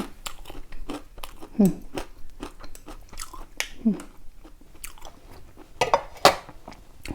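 Chewing and biting through a meal of rice, with crunchy bites and soft mouth noises repeating irregularly up close, a few louder crunches standing out.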